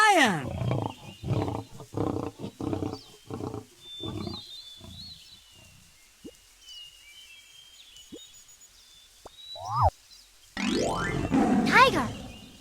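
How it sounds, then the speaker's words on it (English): A lion roars in a series of loud, rhythmic grunting pulses that gradually weaken over about five seconds, followed by a quieter stretch with faint bird chirps, then a burst of noisy, broadband calling near the end. "Lion."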